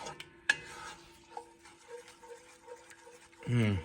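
Peanut butter mixture is stirred in a pot on the stove, giving soft scraping and light clinks with one sharp knock early on; a voice begins speaking at the very end.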